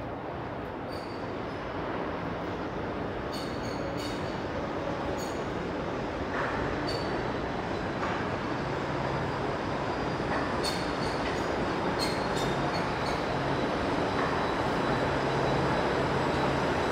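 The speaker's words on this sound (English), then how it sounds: "Looks like there's a streetcar arriving." A Toronto streetcar pulls into an underground station, with a broad continuous rumble of wheels and motors that rises gradually. Brief high metallic squeals and clicks break through now and then, close and loud, with no talking.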